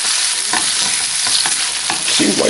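Chicken sizzles in a skillet with a dense, steady frying hiss, close and alone, with soft stirring scrapes breaking in now and then.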